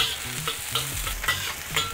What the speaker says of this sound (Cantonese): 第一樣要爆嘅嘢咧就係嗰個辣椒啦